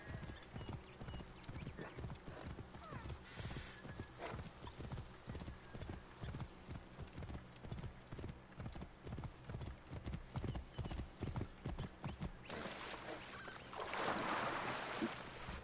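An undead horse mount trots in a video game, its hooves clopping in a steady rhythmic beat at moderate volume alongside a low ambient bed, with a brief swell of noise near the end.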